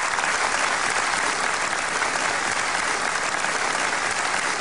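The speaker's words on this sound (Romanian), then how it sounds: "publicul din Alba Iulia subliniază prin aplauze acordul cu hotărârea juriului" A festival audience in Alba Iulia applauds a jury's Grand Prize decision, a dense, even, unbroken roar of many hands clapping that stays steady and loud throughout.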